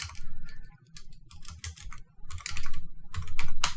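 Keys clatter on a computer keyboard in quick, uneven bursts, close and fairly loud, with short pauses between runs of typing and no voices.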